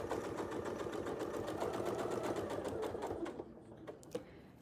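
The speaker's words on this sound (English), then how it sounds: "we'll go ahead and we'll sew this last one" A domestic sewing machine stitches a quilt along a diagonal against a ruler template, a fast steady needle chatter that runs loud and continuous, then slows and stops near the end with a faint click.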